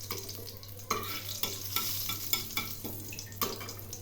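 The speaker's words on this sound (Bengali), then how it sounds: "কালো জিরে ও শুকনো লঙ্কা খুব ভালো করে ভেজে নিলাম।" Dry red chillies and black cumin fry in hot oil with a steady sizzle and crackle, cut by several sharp spoon scrapes and stirring knocks against the pan at irregular intervals.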